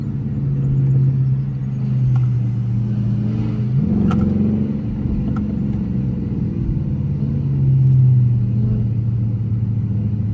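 Deep, steady engine drone from inside a moving 800-horsepower widebody Dodge Hellcat, swelling into a couple of throaty revs before settling back to a low rumble.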